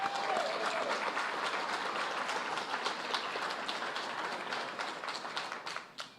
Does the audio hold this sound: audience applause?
yes